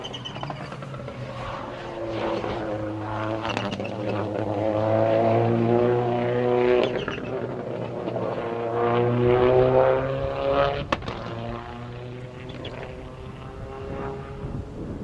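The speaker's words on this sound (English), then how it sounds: "We're going to shut up so you can listen to the turbo sounds of this car." Rally car engine with turbo whine and anti-lag popping on a gravel stage loop, a loud sustained harmonic drone rising and falling as it passes, with a sharp crack near the end.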